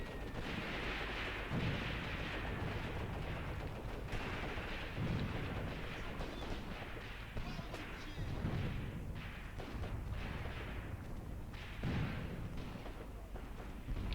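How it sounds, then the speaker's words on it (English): Artillery and heavy support weapons fire in the video game Graviteam Tactics, a steady rumble of distant booms and gunfire repeating through the whole stretch, moderately faint with no speech. "the heavy support weapons are doing their thing again. I hear a lot of fighting over here as well"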